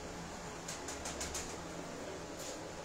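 Pigeons flap their wings on a rooftop, giving a quick run of soft, faint wingbeats followed by one more flutter over a low background hiss.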